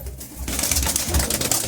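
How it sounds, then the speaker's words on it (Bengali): A pair of Phulshira pigeons coo close by in soft, repeated throaty calls over a steady background murmur. "ওরই জেনারেশনের মধ্যেই এটা হলো ফুলশিরা পায়রা"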